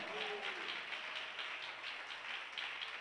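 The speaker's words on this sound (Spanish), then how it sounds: "Dele fuerte ese aplauso al Señor" A church congregation applauds, a steady, dense wash of many hands clapping at once, heard faintly and evenly throughout.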